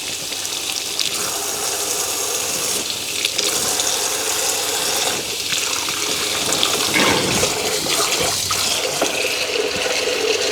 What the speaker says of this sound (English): Going to dump our water. Refill it with the same temperature.